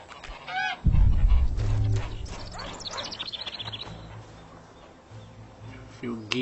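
Geese in the video game The Witcher 2 honk repeatedly at close range, a run of nasal calls alongside game ambience and a low rumble, with a voice speaking at times.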